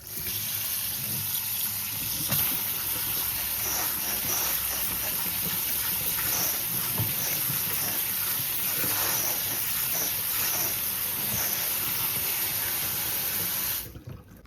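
Cold tap water runs steadily from a faucet over cooked macaroni, a continuous close hiss and splash that stops abruptly near the end.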